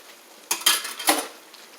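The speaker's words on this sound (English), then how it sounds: "And we're going to cover it." A lid set onto a cooking pot while onions and a roux-thickened Philly steak dish simmer: a few bright metallic clanks and clatters close by over a quiet kitchen background.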